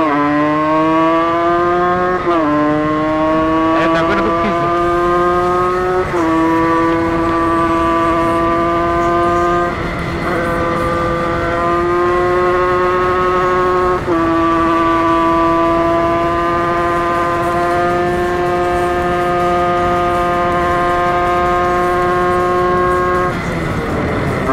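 A 50cc scooter engine screams at full throttle, a loud, sustained buzzing whine that climbs in pitch in steps as it shifts up through the revs, holding steady and close for the whole stretch.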